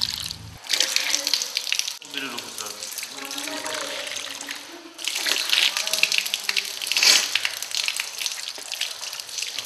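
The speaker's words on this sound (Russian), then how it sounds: "желательно одним разом набрать воду в рот и нос, прополоскать рот и высморкаться" Tap water splashes into a sink in uneven bursts during ritual ablution, as water is scooped up to rinse the mouth and nose, with a voice talking over the flow.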